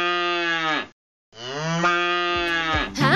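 Cartoon wild ox lowing in two long, loud, drawn-out moos, the first breaking off into a brief silence and the second trailing into rough, lower grunting sounds at the end.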